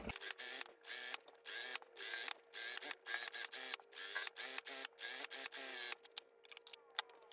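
Sewing machine stitching a pressed seam on a garment, a near, quiet mechanical whir that runs in short bursts of rapid stitching separated by brief pauses, with no talking.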